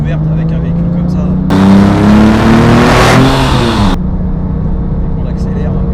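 A Porsche 997 GT2 on an open road, engine droning loudly, then surging into a hard acceleration with rising pitch that settles back to a steady drone, while someone talks over it.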